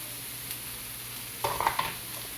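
Stirring seasoned béchamel sauce in a pan with black pepper and salt, a soft background sizzle followed by a few close scraping and clinking stirs near the end.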